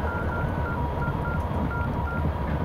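A telephone number is dialed, tone after tone sounding in a steady run over a constant background hum, loud and close, with no speech.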